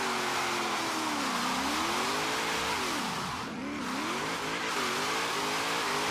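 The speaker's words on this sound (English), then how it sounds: "No, I don't think third gear is going to let us keep this rolling burnout going." Holden Torana A9X doing a rolling burnout in third gear in Forza Horizon 3, with a loud continuous engine drone and tire squeal that dips in pitch midway and then recovers.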